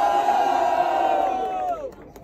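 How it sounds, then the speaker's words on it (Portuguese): Crowd at a Brazilian street rap battle roaring and cheering loudly together, a single sustained surge of shouting voices that holds for a couple of seconds, then fades away. "barulho para quem gostou das rimas de Bispo e Psicose"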